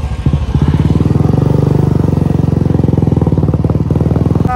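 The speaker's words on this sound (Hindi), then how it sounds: "हमारा बाइक जो है, ठीक है, देखो हम तो ज़्यादा स्पीड में नहीं चलाते ना, फिर भी यार लाउड है" A motorcycle engine that is misfiring badly runs loudly while riding at modest speed, giving a steady, rapid, throbbing pulse close by with no talking over it.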